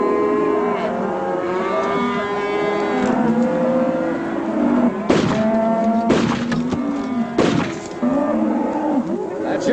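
A herd of cattle lowing steadily as stock is driven through, many overlapping moos layered over a constant drone of hooves and movement, with a few sharp thumps and distant shouts.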